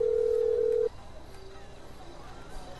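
A phone call in Grand Theft Auto 5 opens with a single steady ringing or dial tone for just under a second, then cuts to a quiet line with faint background noise.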